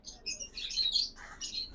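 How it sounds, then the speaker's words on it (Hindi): A canary in a bird shop gives a few faint, high chirps and short trills over quiet background noise. "ये कनेरी आ गई"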